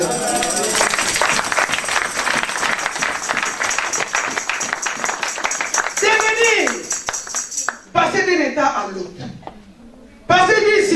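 A church congregation at a French-language worship service claps and cheers in a dense, lively burst of applause. The sound breaks off abruptly, and a voice speaks over the pauses near the end.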